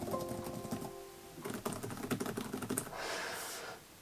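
Typing on the chiclet keyboard of a Dell XPS 13 9310 laptop, a quick run of light, close plastic clacks in an uneven rhythm with no talking, trailing off near the end.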